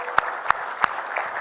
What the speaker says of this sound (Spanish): un aplauso para todos nosotros que creemos en la virtualización